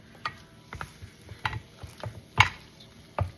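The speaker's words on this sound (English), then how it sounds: "I'm going to take my masher and we're going to mash this all together" A masher presses tomatoes and chicken orzo in a baking dish, making a series of separate soft squelching thuds at an uneven pace with brief pauses between them.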